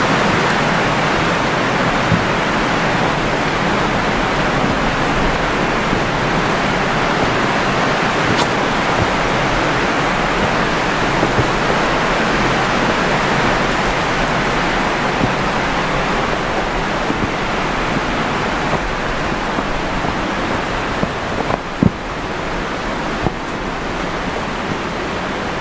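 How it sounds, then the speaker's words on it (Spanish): An underground river flows beneath a cave, giving a dense, unbroken roar of rushing water that stays loud and even throughout, with no voices. "Ya se escucha el super sonido del río por debajo."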